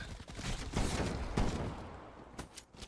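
A quick run of gunfire in Call of Duty Zombies, several sharp shots rattling out in bursts at a moderate distance, fairly quiet, with a couple of fainter pops trailing off at the end.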